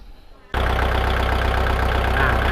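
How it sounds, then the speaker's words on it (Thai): After a moment of quiet, the diesel engine of a Kubota L4708 farm tractor kicks on abruptly and settles straight into a loud, steady, throbbing idle close by. "อ่ะเดี๋ยวผมจะลองติดเครื่องครับ"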